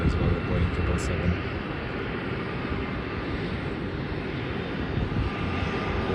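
A Virgin Australia airliner taxiing at Melbourne Airport sends out a steady, broad jet-engine rumble and hiss heard from some distance, constant in level throughout.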